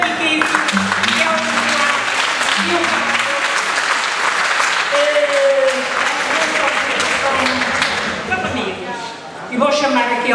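An audience in a cinema claps loudly and continuously, a dense wash of applause with a voice speaking over it before it briefly dips and resumes.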